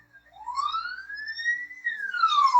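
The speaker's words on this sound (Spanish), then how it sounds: "Y mientras que la ambulancia va" An ambulance siren sweeps up and falls in a long wailing tone as it passes, clear and moderately loud with no talk over it.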